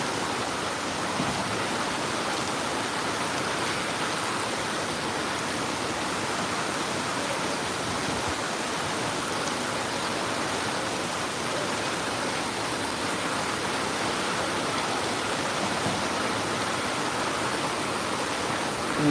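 Heavy rain pours down outside in a constant, dense hiss that stays level and unbroken from start to finish, with no other sounds standing out.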